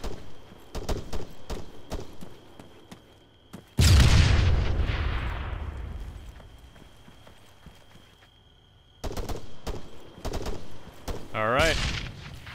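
Military video game firefight: sharp rapid gunshot bursts crackle at the start, then a huge explosive blast decays slowly, followed by more close gunfire bursts and a rising whine near the end.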